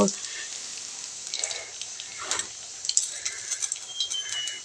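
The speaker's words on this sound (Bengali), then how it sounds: "আমি কড়াই বসিয়ে দিয়েছি আর এখন ওই যে কালো জিরা ফোড়ন দিয়ে দিচ্ছি" Nigella seeds sizzle and crackle in hot oil in a wok, a steady bright hiss with small pops and stirring scrapes, fairly faint and close, with a few quiet words spoken over it.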